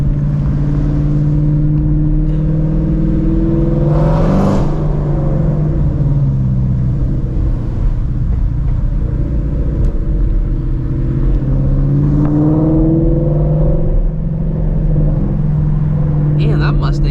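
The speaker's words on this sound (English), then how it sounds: "this Voodoo sounds 10 times better in the city" A Shelby GT350 Mustang's Voodoo V8 rumbles loudly and continuously while driving through the city at night, its pitch rising and falling with two clear revs, under frequent talk from the driver.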